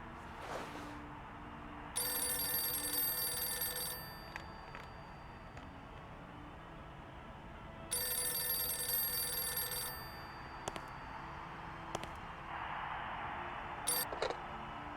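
A telephone ringing in the video game Syberia, two long bright bursts of trilling bell several seconds apart, loud and close over a low ambient hum.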